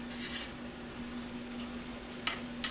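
Beef for a casserole browns in a pan with a soft, steady sizzle, plus a couple of faint clicks near the end, quiet and close with no voices.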